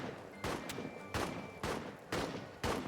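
Single gunshots from a World War I trench video game crack out one by one, about five evenly spaced reports over three seconds, each sharp and loud with a short decaying tail.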